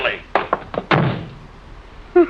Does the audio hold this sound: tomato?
no